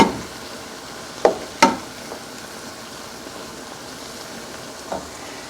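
Vegetables and mushrooms for a shepherd's pie cook down in a pan with a soft, steady sizzle, broken by a few sharp utensil clinks and scrapes against the pan.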